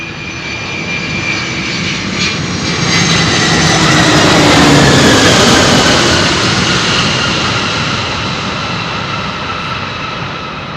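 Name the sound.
UPS Airbus A300 freighter jet on runway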